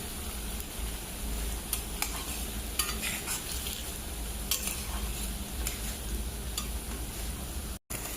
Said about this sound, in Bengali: গাজরটা ভেজে নেব।